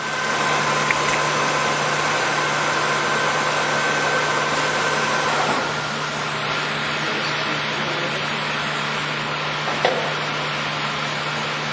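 Polamco 18x80 gap lathe with 80 inches between centers running at 100 RPM, a steady continuous machine hum and whir throughout with a faint tonal drone and occasional light knocks.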